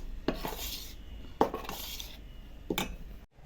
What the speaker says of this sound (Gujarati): મિક્સ કરી નાખીશું, હલાવીશું।